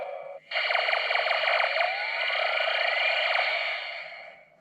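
An electronic toy sound effect from a Power Rangers Megaforce Gosei Morpher, the Summon Megazord call: a sharp blip, then a loud buzzing synthesized tone with a rising sweep that holds and fades out.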